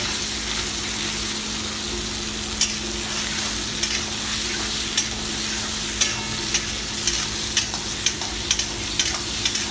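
Fried onions and tomatoes for an egg dish are stirred in a restaurant pan, giving a loud, continuous sizzle with regular sharp scraping knocks from the spatula every second or so.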